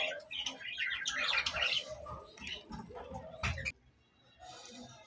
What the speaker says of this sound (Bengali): এইভাবে বাজিগার পাখিগুলা তাদের বাচ্চাদেরকে এইভাবে তা দিয়ে রাখে যেন শরীর ঠান্ডা না হয়।